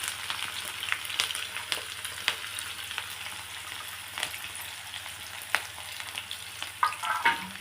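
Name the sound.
onions and green chillies frying in hot oil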